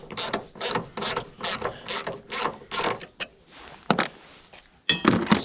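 Ratchet undoing a 10mm bolt on a Ford Fiesta ST150 during coolant bottle work, a rapid series of sharp clicking pawl strokes in quick rhythm, close and crisp, then a few scattered clicks after a short pause.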